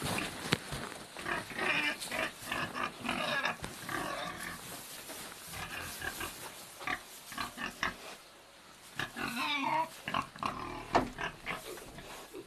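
Pigs grunt and snuffle in a pigsty in a rural northeast China village. The grunts come as steady, close, rough bursts that overlap, with no clear speech.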